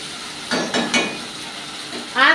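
Onions sauté with garlic, green chili and ginger paste in a pan, a low sizzle broken by a few scraping stirs, with a brief voice near the end.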